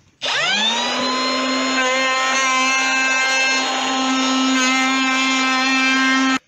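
A wood router spins a flat-bottom cleaning bit in a guitar body cavity, a loud steady high-pitched whine that starts abruptly, holds evenly for about six seconds, then stops.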